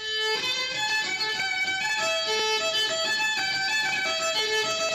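Violin playing runs throughout, sustained bowed notes shifting in pitch with a steady, fairly loud presence and nobody talking.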